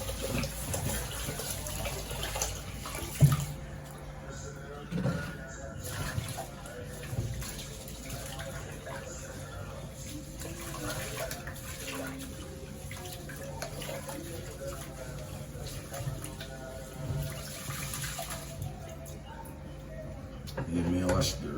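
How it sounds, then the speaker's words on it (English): Rice being washed under running tap water, a continuous soft stream with faint swishing and clinks of the grains in a pot, mostly steady and close, with a voice talking over parts of it. "Let me wash the rice. This is washing the rice."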